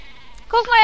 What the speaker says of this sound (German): Guck mal, er schickt dir ein Schaf.